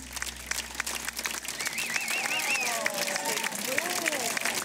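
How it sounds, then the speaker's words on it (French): Applause from a studio audience on a television broadcast, a moderate, steady patter of clapping with a few whoops and voices mixed in, heard at a middle distance. "Ces applaudissements sont pour vous"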